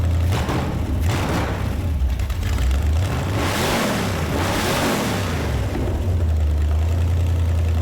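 A car engine with a four-corner idle carburetor runs steadily at idle with a low, continuous hum that swells briefly in the middle, no voices present.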